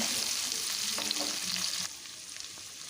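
Onion, garlic and chili fry in a wok with a steady, loud sizzle and some stirring, the hiss easing slightly partway through; no one speaks.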